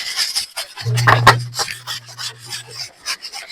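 A brush scrubbing the floor of a home bathroom, short rough rubbing strokes up close, with a low hum running underneath.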